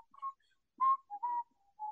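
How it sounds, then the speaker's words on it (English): A person whistles a short, high-pitched punk tune in a few quick bursts, with pauses between the phrases and no talking. "I just did the Mr. Buzzcock whistling for you"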